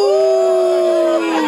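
At an outdoor festival breakfast during the Moros y Cristianos celebrations in Molina de Segura, a man imitates a wolf with one loud, sustained howl that holds a steady pitch and then slides down at the end.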